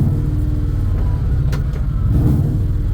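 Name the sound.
lifted VW Beetle Baja engine running while driving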